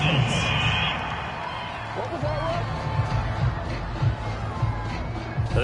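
A PS4 American football video game's home crowd cheers a penalty flag with a steady, swelling roar, heard beneath a commentator talking.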